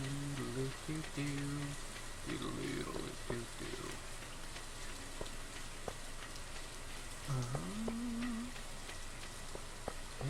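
Steady rain hisses throughout in the Stardew Valley video game, mixed with short melodic game tones and sound effects while a person talks over it.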